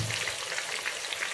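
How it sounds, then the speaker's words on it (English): Onion frying in a pan for a goat meat sauce, a steady soft sizzle and crackle running throughout, close by with no talking. "now we are going to fry our onion first"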